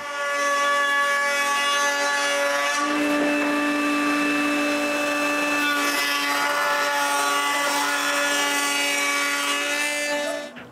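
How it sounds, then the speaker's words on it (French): Very large auger bit boring through a square wooden post, a steady grinding drone with sustained resonant tones, continuous and close for the whole stretch and cutting off abruptly at the end. "j'utilise une très grosse mèche de corderon et je transforme le carré en tube"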